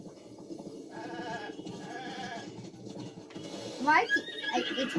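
A horse neighs in the Zelda Breath of the Wild video game, whinnying tones rising and falling near the end over a steady bed of game sound.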